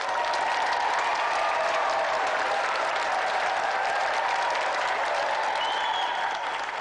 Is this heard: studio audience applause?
yes